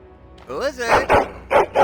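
Dog barking in Dragon Age: Origins, a few loud close yips and barks in a quick rhythm following a short whining voice-like sweep at the start.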